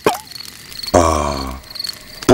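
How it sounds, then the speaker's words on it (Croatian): Cricket chirping in a cartoon night scene at a family campsite, soft repeated high trills, broken by a loud harmonic voice-like tone in the middle and a burst at the end. "To što čuješ je cvrčanje cvrčka."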